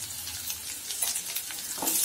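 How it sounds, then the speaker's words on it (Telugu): Onion pieces sizzling in oil in a pan, a bright crackling frying hiss heard up close and alone, with a few stirring scrapes. "ఉల్లిపాయలు రసపు మెత్తబడేటంత వరకు వేయించుకుంటే చాలు"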